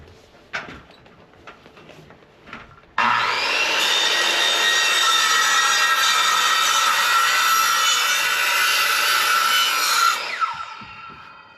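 A board being trimmed with a saw for a farm picnic table build, a continuous loud rasping cut of about seven seconds that stops abruptly, preceded and followed by a few scattered knocks and handling noises outdoors.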